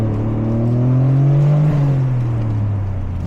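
Toyota GR Corolla turbocharged engine under hard acceleration, a loud, close drone climbing in pitch, peaking and then easing slightly over a few seconds, with no talk.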